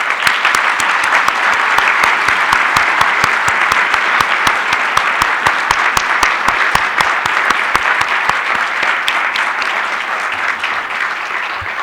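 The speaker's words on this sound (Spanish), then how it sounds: "a todos les pido un aplauso fuerte para el profesor." An audience gives a professor strong applause at the closing of an international seminar on fighting corruption, a loud, sustained burst of dense clapping that carries on evenly for about twelve seconds and eases slightly toward the end.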